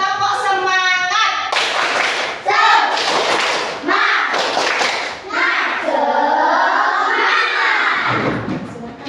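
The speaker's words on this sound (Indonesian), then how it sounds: "Oke, tepuk semangat." Schoolchildren in a fourth-grade classroom perform a rhythmic spirit clap, loud and close, with patterned hand claps mixed with shouted chanting voices throughout.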